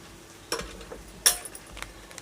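A spoon stirs potato bhaji seasoned with garam masala in a pan. There is a soft background sizzle, broken by a few scraping strokes and one sharp metallic clink.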